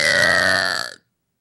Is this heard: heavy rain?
no